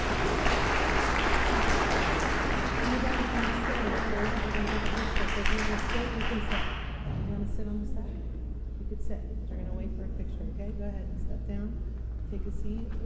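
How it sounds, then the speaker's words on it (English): An audience gives a round of applause for a class at a ceremony at St Demetrios in Daytona Beach, dense clapping for about seven seconds before it thins out into scattered claps, murmuring and nearby talk. "Could we give them a round of applause?"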